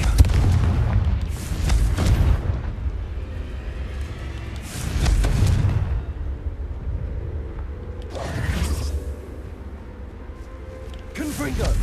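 A Confringo fire spell in Hogwarts Legacy sets off repeated deep booming explosions that rumble in long waves, with a spoken voice over parts of them.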